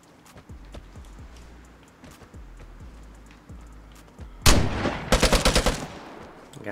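A burst of La Chiave shotgun blasts in Vigor follows a stretch of quiet footsteps, with one loud close shot and then a rapid cluster of sharp reports.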